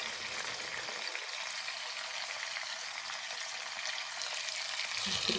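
Saltfish frying in a hot pan for a Jamaican fry-up gives a steady, loud, dense sizzle that swells when the fish goes in, with faint scraping of stirring near the end and no talk.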